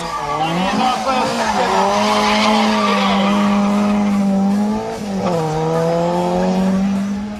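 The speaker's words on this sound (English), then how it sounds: "here he gets right on the throttle to complete this turn after sliding out" A Ford Escort Mark I rally car slides through a turn at the 2012 King of the Hill hill climb in Barbados, tires squealing over a loud, strained engine note that dips and then rises again as it accelerates hard.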